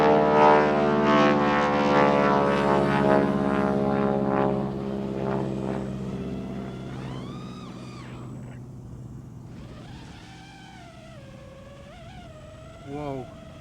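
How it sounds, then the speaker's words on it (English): A propeller airplane passes overhead outdoors, its droning engine strong at first then slowly fading with the pitch dropping, while a person speaks over it near the end. "There's a plane coming overhead."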